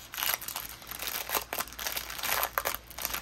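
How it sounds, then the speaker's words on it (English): Plastic packaging for a diamond painting kit crinkles and crackles close up in a steady run of crisp, irregular bursts, with no voices. "Sorry again for the crinkling."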